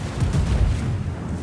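Naval ship guns from a warship video game, a King George V battleship among them, rumble in sustained fire, a dense continuous roar of heavy booms, loud and close, with no talk.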